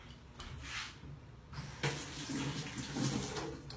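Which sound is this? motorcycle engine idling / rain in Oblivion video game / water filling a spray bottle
water filling a spray bottle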